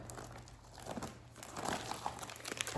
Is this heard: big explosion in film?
no